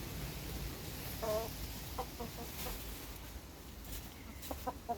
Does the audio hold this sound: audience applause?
no